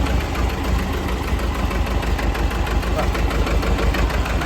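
A farm tractor's engine idles close by with a loud, steady, rough rumble and a faint knocking pulse, running unbroken throughout.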